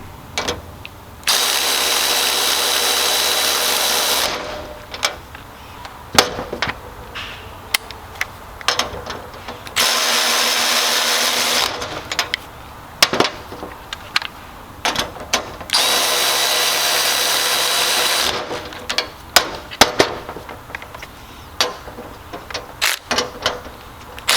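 Milwaukee M12 Fuel 3/8-inch and Snap-on cordless ratchets run in turn, tightening fasteners: three long, loud bursts of high-pitched motor whine, separated by clicking, rattling handling noise.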